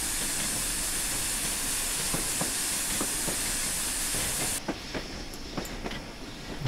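A steam train, the wartime Flying Scotsman, hisses loudly, then the hiss cuts off abruptly, leaving slower clicking wheels on rails as it slows to a crawl coming into a station.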